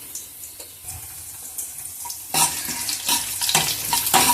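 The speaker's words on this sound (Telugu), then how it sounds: "ఆయిల్ కొంచెం హీట్ ఎక్కగానే ఈ పోపు దినుసులు అనేది ఇందులో యాడ్ చేసేసుకోండి" Tempering spices dropped into heated oil in a kadai: a soft background hiss that suddenly swells into louder, crackling sizzling partway through and keeps spattering to the end.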